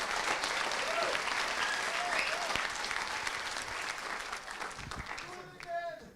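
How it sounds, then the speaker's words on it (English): An audience at a general assembly council meeting claps in a dense, sustained round of applause that gradually thins toward the end, with a few faint voices underneath. "please, applause for Thomas."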